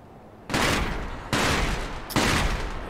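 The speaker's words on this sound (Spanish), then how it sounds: "Los petardos estos, tío." Three sharp crackling bursts of firecrackers exploding in the video game Sekiro: Shadows Die Twice, each a sudden loud blast decaying over most of a second, evenly spaced.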